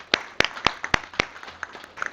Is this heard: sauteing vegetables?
no